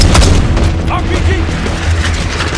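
An RPG rocket explosion in the Call of Duty: Black Ops 6 video game, a loud booming blast at the start that rumbles on beneath ongoing battle noise and scattered gunfire, with voices calling out over the mix.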